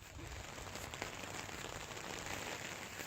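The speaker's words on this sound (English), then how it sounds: "All I know is it's raining." Rain falls steadily outdoors on a wet day, a soft, even hiss of drops pattering on surfaces, faint and continuous with no voices.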